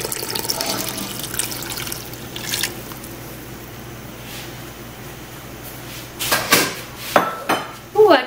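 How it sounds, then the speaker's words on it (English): Lemon juice goes into a simmering smoked tomato Bloody Mary mix, heard as soft, steady liquid burbling with light clinks of a pot and utensil that grow sharper and more frequent toward the end, nearby and without talk. "I am now going to put in the lemon juice."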